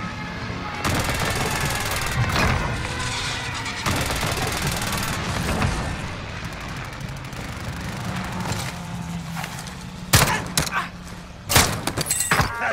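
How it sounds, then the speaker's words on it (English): Call of Duty Warzone gameplay on PS5 with a precision airstrike: loud, dense rapid gunfire and booming explosions roll on almost continuously, ending in a few sharp separate blasts. "friendly precision airstrike inbound"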